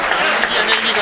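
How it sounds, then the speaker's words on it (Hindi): Short burst of audience clapping at a Jain community Maha Aarti gathering in Mayur Vihar, loud and close, with a voice speaking over it. "एक बार जोरदार ताली इनके लिए भी बनती है।"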